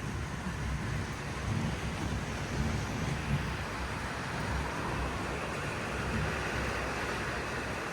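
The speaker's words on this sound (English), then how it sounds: "The wind's starting to get strong." Strong wind roars steadily during an afternoon thunderstorm, a loud broadband rush with low rumbling buffets across the microphone and no clear talk.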